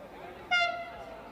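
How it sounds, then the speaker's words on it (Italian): Train horn sounds at a station on the line toward Venice, one loud, sustained, harmonic blast that starts abruptly and fades over about half a second. "non si spostano nemmeno quando il treno inizia a suonare"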